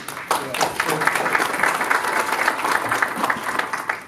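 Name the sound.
forum audience applauding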